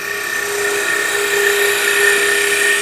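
Spindle gouge pushed straight into dead center of a spinning wooden box blank on a lathe, drilling a hole: a steady, loud, high whining cut that holds evenly for about three seconds with no talk.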